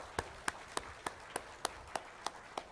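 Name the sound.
congregation clapping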